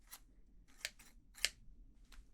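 Four crisp metallic snips of scissors, spaced irregularly and fairly close, over a quiet low hum.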